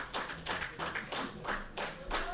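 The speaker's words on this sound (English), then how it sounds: "George Van Heerden, as you hear the applause." Spectators at a cricket match applaud a batsman walking to the crease, about seven distinct, widely spaced hand claps in a loose rhythm, close and sharp, with no talk over them.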